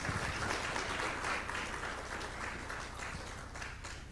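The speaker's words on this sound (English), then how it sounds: "I think they deserve a round of applause again." Audience applause at a public financial management forum: a dense, steady crackle of many hands clapping that fills the room at moderate level for the whole stretch, with no voices over it.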